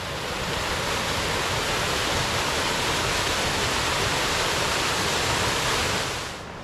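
Cossack Tears waterfall at a rock and cave complex, a steady, loud broadband roar of falling water that runs unbroken, then eases slightly at the very end.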